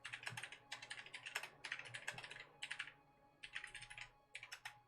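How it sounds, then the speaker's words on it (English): Rapid typing on a computer keyboard comes in quick bursts of crisp, close clicks and clacks separated by short pauses, fairly quiet overall and without speech. "Oh, I was typing it in like our private channel."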